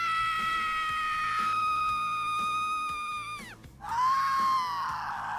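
A drawn-out, high wailing survivor scream from the video game Dead by Daylight, loud and harmonic, breaks off briefly and then starts again as a second rising cry, with no talking over it.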